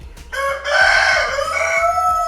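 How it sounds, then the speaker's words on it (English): A black Cochin Bantam hen calls loudly and close in one drawn-out, wavering, crow-like cry, with a few soft clucks running underneath. "So this is black variant of Bantam chicken."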